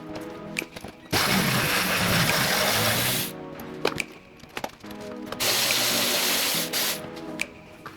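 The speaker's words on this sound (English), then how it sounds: "First job I'm going to do is remove these side covers with two Torx bolts" A ratchet undoing two Torx bolts on the side covers of an Alfa Romeo 159 during front subframe removal: two bursts of rapid metallic clicking separated by quieter knocks and handling sounds, close up, no talk.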